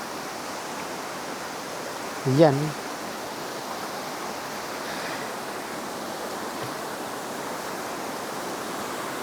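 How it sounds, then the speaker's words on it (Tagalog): River water rushes steadily during a river crossing on the way to Monterico (Madulas) Falls in Baybay, a constant broad wash of flowing water with a brief voice cutting in near the start. "tumatawid kami ng ilog"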